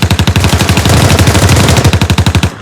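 Rapid bursts of automatic gunfire as a group of soldiers opens fire, loud and close, with sharp shots firing in a fast, steady rhythm before stopping abruptly at the end.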